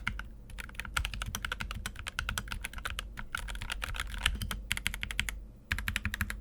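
Someone types steadily on an X-Bows Crystal keyboard fitted with Gateron yellow linear switches, a close, dense stream of key clacks with short pauses between bursts.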